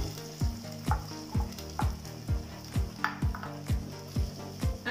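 Onions frying in a pan for meatless spaghetti, a steady sizzle broken by regular scraping strokes of a spatula roughly twice a second, close and fairly loud, with no voices.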